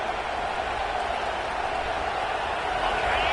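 Stadium crowd noise in the video game College Football 26, a continuous loud roar from a packed stadium with a commentator's voice faintly beneath.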